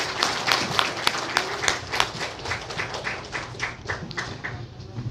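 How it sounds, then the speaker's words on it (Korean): A church congregation at an ordination and installation service applauds with scattered, moderately loud hand claps. The clapping is uneven, softens toward the end, and carries a faint murmur of voices. "우리 박수하고 들어가겠습니다."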